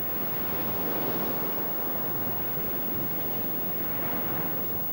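North Sea surf breaking along the shingle and dune coast of Norfolk, a steady broadband wash of waves with wind over it, even and continuous throughout with no voices.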